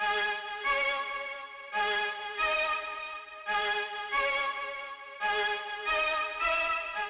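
A bright, sustained string-like synth melody plays in repeated phrases with short gaps between them, each note rich in harmonics, no voices.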